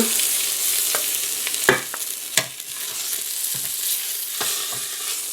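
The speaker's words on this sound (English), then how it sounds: "Alright, we browned the first 2." Pork chops brown in a pressure cooker with a steady, close sizzle of hot fat, broken by a few sharp scrapes and knocks of a utensil against the pot.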